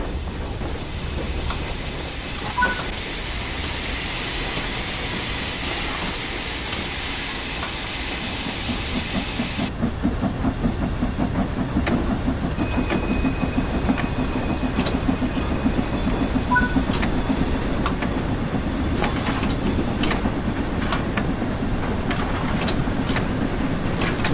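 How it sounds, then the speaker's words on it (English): Steam locomotive in Train Sim World 5, cylinder cocks open and hissing steam over the rhythmic chuff and rail clatter of the engine moving off, continuous and close, with a change in the hiss partway through. "the cylinder should have been blown clear by the steam jetting out of them"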